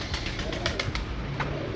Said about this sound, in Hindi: बड़ा 8 नंबर कबूतर है, लाजवाब परफॉर्मेंस।